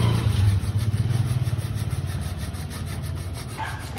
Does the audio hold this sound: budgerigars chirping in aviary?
no